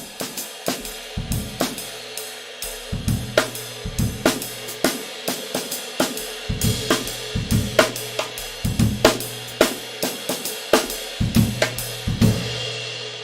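Solo drum kit improvising in broken time on a short rhythmic motif, snare and tom hits with cymbals, varied phrasing repeated several times, close and clear.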